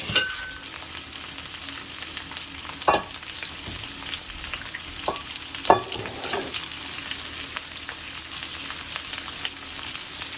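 Shrimp frying in a pan for a broccoli and shrimp garlic sauce dish, a steady close sizzle with a few sharp pops and clicks, no voices.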